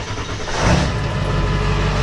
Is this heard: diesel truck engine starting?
yes